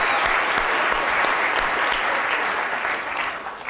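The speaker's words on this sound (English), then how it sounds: "will you please give a round of applause to the cast of Loserville?" A theatre audience gives sustained applause for the cast of the musical Loserville, a dense, even wash of clapping from many hands that stays loud before easing off slightly at the end.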